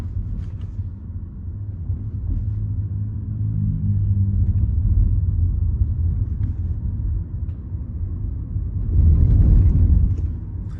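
A Volkswagen Golf 7 e-Golf electric car rolling over speed bumps, heard from inside as a low steady road rumble with a heavier thump and swell near the end.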